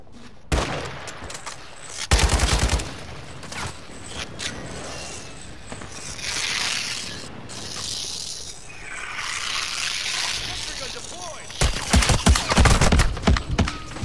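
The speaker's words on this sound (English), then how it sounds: "I've been shooting them" Gunfire in Call of Duty: Modern Warfare II, loud rapid bursts of automatic shots at the start and again near the end, with quieter scattered game effects in between.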